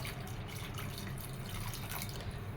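Water being poured onto cubed taro for a curry: a steady, close, low trickling and splashing of liquid that stays even throughout, with no voices.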